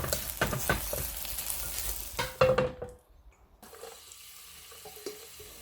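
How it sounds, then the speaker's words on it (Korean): Starch-coated eggplant pan-fries in a small amount of oil, crackling and spitting loudly with sharp pops for a few seconds before dropping to a quieter, softer sizzle. "기름을 최대한 적게 두르고 전분을 입힌 가지를 노릇노릇하게 구워주세요."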